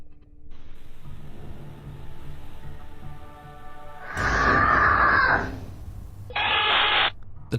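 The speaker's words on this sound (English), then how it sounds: "Then a loud scream pierces the air, sending the little girl running for mommy." A loud, shrill scream bursts in after a stretch of quiet room noise in a child's bedroom as captured by a Ring nanny cam, followed moments later by a second harsh burst.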